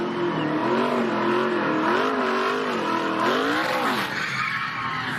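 An ARCA race car does a victory burnout at Talladega after the General Tire 200, its engine revving loudly in wavering surges over a harsh tire-squeal hiss, close and continuous.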